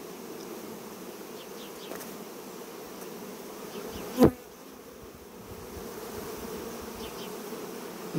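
A swarm of honeybees buzzing steadily as a beekeeper gathers them, a dense continuous hum with one brief louder knock partway through and no talking.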